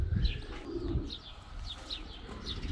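Pigeons cooing softly with a few short chirps, over a low rumbling background; several calls spread through the clip at moderate distance.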